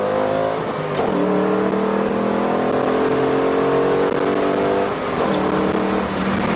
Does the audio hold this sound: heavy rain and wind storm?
no